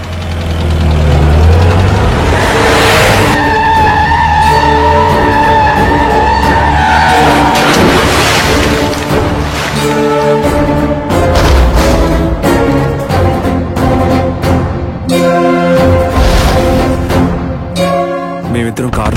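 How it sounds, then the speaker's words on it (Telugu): Movie-style car sound effect of an engine starting and tyres skidding, loud and continuous, layered with dramatic music and other effects throughout. "అప్పుడు ఒకరోజు కృష్ణ కార్ స్టార్ట్ చేశాడు."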